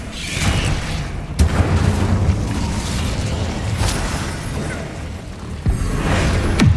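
An Incendio fire spell erupts in Hogwarts Legacy combat, loud booming bursts and whooshes layered over a dense rumbling battle bed, with sharp impacts recurring every couple of seconds.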